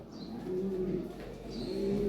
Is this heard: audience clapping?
no